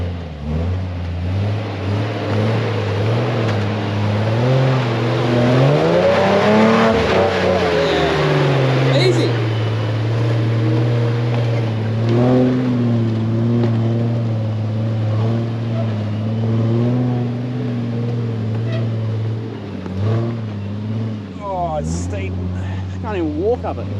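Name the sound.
off-road 4WD vehicle revving up a steep hill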